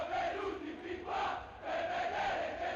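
Stadium crowd noise from the PES 6 football video game during a match against Borussia Dortmund, a steady roaring murmur that swells and dips in waves, heard alone without commentary.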